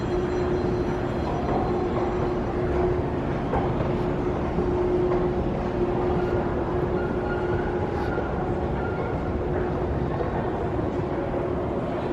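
The free ARIA Express tram in Las Vegas runs with a steady, continuous rumble and rolling hum, fairly loud and even throughout, with faint higher mechanical whine and no talking.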